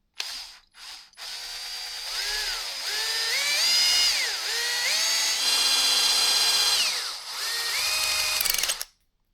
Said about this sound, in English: 5 millimeter drill bit.